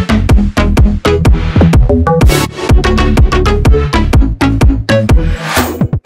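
A plucky synth preset built in Serum for a house track, playing a loud, busy melodic pattern of short, bright, percussive notes over deep thumping kicks, with occasional noisy swells; dense and continuous with no talking.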